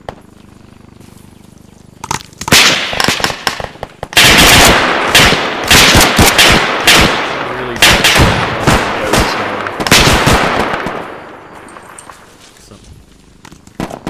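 Heavy machine guns hammer in the video game Arma 3, loud sustained bursts of rapid automatic fire that run for about ten seconds, with brief gaps between volleys before trailing off.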